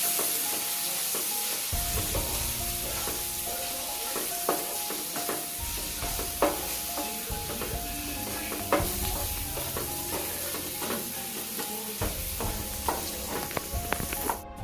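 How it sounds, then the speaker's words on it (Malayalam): Spoon stirring and scraping through spices with turmeric and chilli powder sizzling in a hot pan for chutney, steady frying hiss with repeated clinks and scrapes, close and alone. "മഞ്ഞൾപ്പൊടി ഇട്ട് കൊടുത്ത് നല്ലോണം ഇളക്കിയെടുക്കാം"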